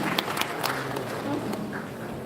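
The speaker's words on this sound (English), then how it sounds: "Please, another round of applause for Dr." An audience at a mentorship summit in Kano gives a round of applause: scattered, fairly faint claps over a hazy room background, thinning out across two seconds.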